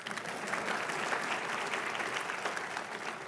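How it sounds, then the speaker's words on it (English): Steady, dense applause from a conference audience at a small business finance forum plenary, an even wash of many hands clapping that is heard at a moderate distance and sustained for a few seconds. "Round of applause."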